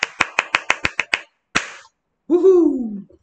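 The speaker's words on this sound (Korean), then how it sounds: "오늘 박수를 안 칠 수가 없어." Hands clap in praise, seven quick sharp claps in a steady run, then a single clap after a pause, followed by a short vocal exclamation.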